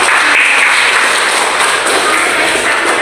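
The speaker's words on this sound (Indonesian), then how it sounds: "Oke, tepuk tangan." Students in a classroom applaud together, a dense burst of hand claps that carries on steadily for about three seconds with no talking.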